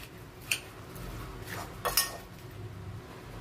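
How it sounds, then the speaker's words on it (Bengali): A spoon mixes spices and sugar into cut mango pieces, giving a few soft, scattered clinks and scrapes against the bowl at a low level, with no talking. "এরপরে ভালো করে এটাকে মিক্স করব, যাতে মশলাগুলো এই আমের মধ্যে লেগে যায়"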